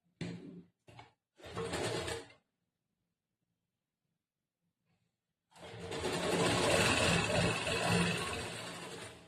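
Sewing machine stitching a blouse seam: a few short buzzing bursts, then a quiet pause, then a longer steady run of close, rapid mechanical chatter.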